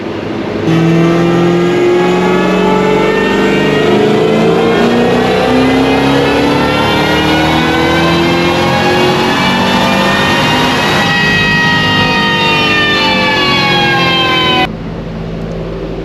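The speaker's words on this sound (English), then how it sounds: "first dyno with the GT500. Bone stock." A stock Ford GT500 engine revs on a dyno, a loud sustained roar whose pitch climbs steadily through the pull, then cuts off abruptly near the end to a low idle.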